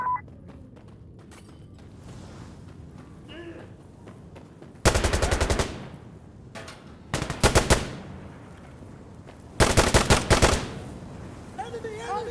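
Rapid automatic gunfire from the video game Insurgency: Sandstorm comes in three loud bursts over a quiet, muffled background, the first running about a second and the later two shorter and choppier.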